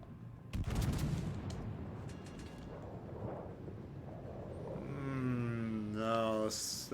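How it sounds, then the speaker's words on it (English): Warship rear guns fire in the World of Warships Legends game, a sharp loud cannon blast followed by a few quicker booms and rumbling echoes, with a voice speaking near the end. "I wonder if I can shoot this guy with the back guns"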